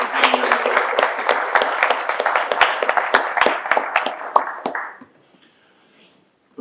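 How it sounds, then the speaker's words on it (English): An audience at an annual meeting claps in a dense, lively burst of applause for several seconds, then it dies away into near silence. "Let's give Millard a round of applause."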